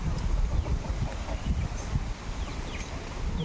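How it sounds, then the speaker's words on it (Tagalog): Wind gusts buffet the microphone outdoors near coconut palms, a rough, low, continuous rushing that swells and eases, with faint high bird chirps far off. "Oh, mahangin. Sarap ng hangin."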